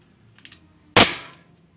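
A single sharp, snappy airsoft pistol shot from an upgraded Glock 19 firing 6mm BBs rings out close by, preceded by a few faint clicks, then a brief tail fading away.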